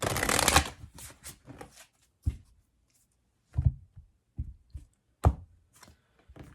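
Tarot and oracle cards shuffled by hand for a reading: a dense riffling burst at the start, then soft scattered taps and slaps of cards being cut and set down in a quiet room.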